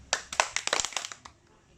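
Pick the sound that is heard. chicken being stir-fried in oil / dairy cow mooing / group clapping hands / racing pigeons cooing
group clapping hands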